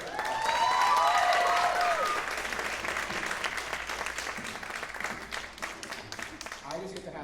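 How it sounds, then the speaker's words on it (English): Audience applause at a middle school world percussion spring concert, a dense steady clapping that swells loud at first and then holds, with whoops and a voice rising over it near the end. "Give them a round of applause for that."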